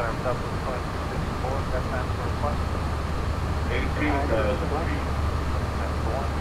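Steady broadband roar of a simulated jarDesign A320 airliner's engines in X-Plane 11, droning evenly throughout with a low rumble beneath and brief faint tonal chirps over the top.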